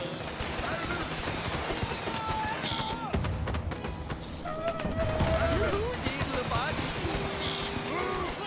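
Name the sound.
cannons firing in the video game Totally Accurate Battle Simulator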